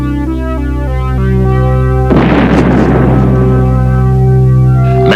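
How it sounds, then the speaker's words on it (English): A giant cannon fires a spaceship in a 1902 Georges Méliès silent film based on Jules Verne: one loud, broad boom bursts out midway over a steady, sustained musical score and rumbles on to the end. "s Méliès, based on the novel by Jules Verne, shows a spaceship shot from a giant cannon."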